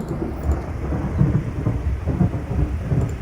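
Thunder rolls through a severe Midwest thunderstorm, a steady low rumble with rain falling throughout and no voices.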